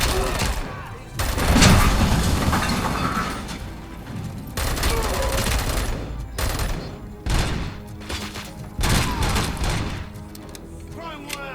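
Heavy gunfire in the video game RoboCop Rogue City, loud bursts of shots that rise and fall in waves across the whole stretch, mixed with booms and mechanical clatter while voices speak over the action.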